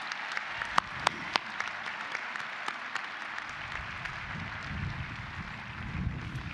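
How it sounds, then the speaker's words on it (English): An outdoor crowd at the Bowling Green State University spring 2021 commencement ceremony applauds, a broad sustained patter of many hands with a few sharp louder claps near the start and wind rumble buffeting the microphone later. "Let's give these folks a round of applause."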